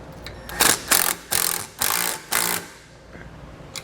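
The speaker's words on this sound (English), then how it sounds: "I just took a nut and a bolt, some washers, put this through it, and I'm simply just going to tighten this up to re-secure it." Ratcheting wrench tightening a nut and bolt with washers on a hitch, five loud rhythmic clicking bursts in quick succession, then a quieter pause and one faint click near the end.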